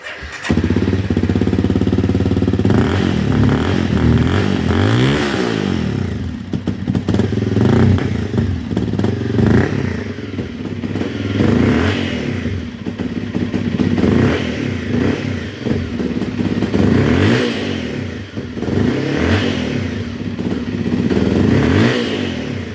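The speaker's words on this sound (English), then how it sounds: "There's me revving away on a cold engine" A Honda CRF250L bored to 300cc with a CBR300 ECU revs hard from a cold start, repeated loud throttle blips rising and falling close up with a clattery idle between them.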